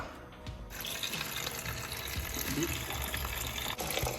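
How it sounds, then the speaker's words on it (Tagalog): Water and vinegar pour into a cooking pot of fish layered with ginger, garlic and onion, a steady splashing gush that runs loud and continuous through the whole moment. "lalagyan na natin yan ng tubig at saka suka."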